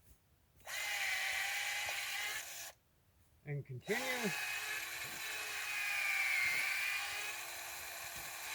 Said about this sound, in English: Pick a nice spot in the tree. Drill on an upward angle.